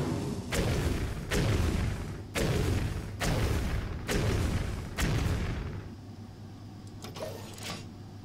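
Matter Bomber card explosions in the Hearthstone video game: a rapid series of six heavy booming blasts at roughly one-second intervals, loud and close, followed by a quieter rumble and a few lighter game effects.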